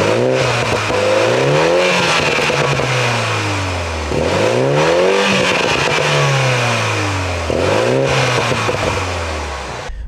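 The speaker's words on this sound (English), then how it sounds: "one of the best sounding four cylinders that I have driven here on the channel" A 2022 Toyota Supra with the 2.0 four-cylinder engine revs hard from inside the cabin, climbing through three repeated pulls that each rise in pitch and then drop back, loud and close with no talking.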